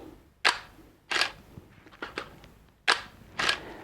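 Nikon D800 camera shutter in quiet mode, four distinct clicks in two pairs, each a short soft mechanical snap with a brief whir between, close and fairly quiet, no talking.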